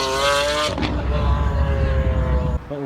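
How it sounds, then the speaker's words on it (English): A high-revving multi-cylinder engine wails loudly, then drops off into a rumbling, throaty idle before revving again at the end. "And V10s and V12s purr."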